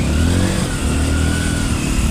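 A motorcycle passes close by on a road, its mid-pitched engine revving loudly and steadily, with the drone holding strong for the whole short stretch.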